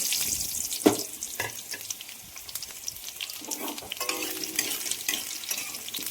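Cut potato pieces frying in hot oil, giving a steady close sizzle with occasional stirring scrapes and clinks throughout; no talking.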